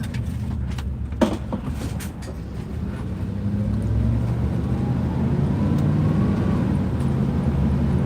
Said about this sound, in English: I am driving, so I always gotta be very cautious of my surroundings